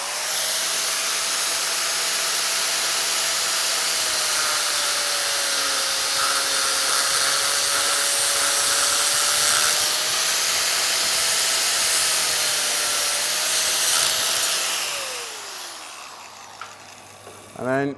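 An angle grinder cutting steel pipe to join two lengths at 90 degrees gives a loud, steady high whine with a sustained tone for about fifteen seconds, then winds down and stops.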